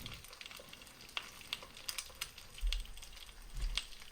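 An egg frying in a hot pan, sticking and burning as it cooks, with a soft continuous sizzle and a few low scraping knocks, close and fairly quiet.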